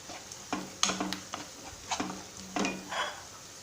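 Tomato rice base of turmeric, coriander powder and fennel seeds frying in oil, with a few close scraping stir strokes and a light sizzle underneath, quiet and alone.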